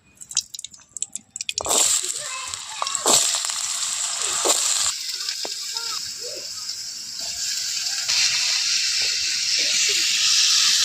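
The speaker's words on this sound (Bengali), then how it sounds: "বাঁধাকপির জন্য আলুগুলো একটু কষিয়ে নেব কড়াইয়ের মধ্যে" Potatoes dropped into hot oil in a wok sizzle loudly after a few clatters, then settle into a continuous hissing fry close by, with occasional stirring scrapes and no talk.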